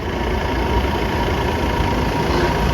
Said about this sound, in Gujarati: આ મહિન્દ્રાની જીપ આવી રહી છે